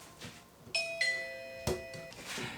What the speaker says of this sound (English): We just, for Christmas last year, got Ring doorbells type of thing. It's not Ring, it's like an off-brand, but is so neat.